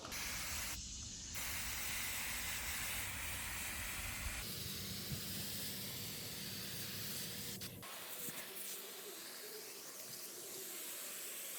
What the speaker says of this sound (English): Now let's actually spray the coils.